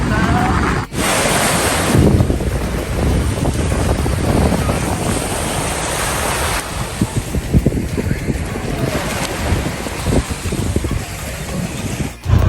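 Sea waves at Ta Waen beach on Koh Larn island near Pattaya wash continuously, a loud surf rush mixed with strong wind buffeting close by.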